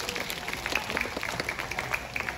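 Audience applause rings out at a nighttime owl show, honoring a Malay fish owl and its trainer; steady, moderately faint clapping from a crowd fills the short stretch without pause.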